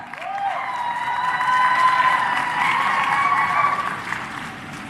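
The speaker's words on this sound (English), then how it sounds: "Let's please cheer her on." A crowd at a Cavendish University graduation ceremony applauds and cheers steadily as a graduate walks up, the clapping dense and sustained with some thin whistle-like tones riding above it.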